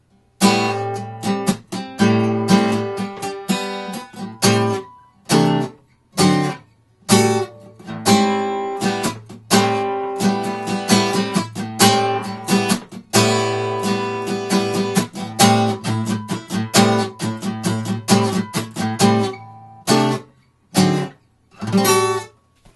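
Guitar slowly playing the chords of a song, close and clear, with plucked and strummed chords separated by short rests and pauses in an unhurried rhythm.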